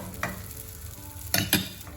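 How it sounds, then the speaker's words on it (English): Bread chunks toasting in a hot dry pan for Caesar salad croutons, a faint sizzle broken by three sharp scraping stirs, close and without talk. "You see, the bread is getting like toasted."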